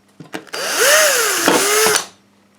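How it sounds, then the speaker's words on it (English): Power drill boring a pilot hole into plasterboard for a self-drive drywall fixing: a few brief clicks, then a loud close whine that rises, holds for about a second and a half and winds down. "To fix it, I need to drill a pilot hole first."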